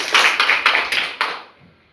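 A group of people in a classroom claps hands together in about five quick, sharp rhythmic bursts, each close and distinct, before the sound drops away into quiet.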